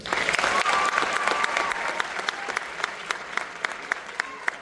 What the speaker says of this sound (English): Please give a big round of applause for Jeff McClure.